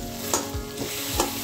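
A spoon stirs eggplant and potato curry in a pan, making soft repeated scrapes over a steady low sizzle, close up with no voices.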